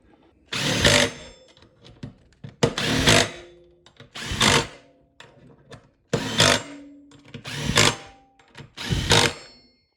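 A power tool drives bolts into a disc on a 2000 Yamaha YZ250 dirt bike wheel, six loud bursts of whirring with short pauses and small clicks between them.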